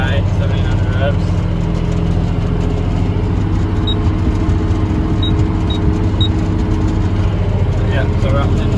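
A tractor with 12,600 hours on it drones steadily and loudly from close by at about 1,700 rpm while cultivating red dirt, a constant low rumble with a faint high whine, under intermittent talking.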